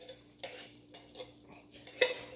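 A spoon stirring creamed corn in a metal pot gives a few scattered clinks and scrapes against the sides, quiet and close, with one sharper knock near the end and no talking.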